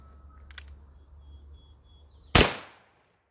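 A single sharp gunshot from a 10mm pistol fired at a Kevlar wall, loud and close, cracking once and then decaying quickly, with a smaller click-like pop earlier over a low steady hum.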